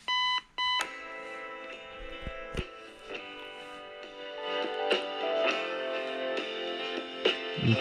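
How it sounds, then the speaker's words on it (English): A Sony ICF-C211 AM/FM clock radio alarm goes off with two short beeps, then sounds steadily and loudly for several seconds, with no talk. "Next thing we're going to test is the alarm clock."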